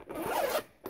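A package zipper is pulled open in one quick close rip lasting about half a second, followed by a short second tug.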